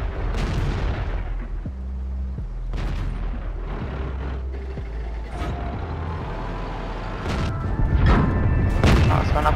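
Tank cannon shots in the World of Tanks video game, several heavy booms spread across the stretch over a constant low engine rumble, with louder blasts near the end.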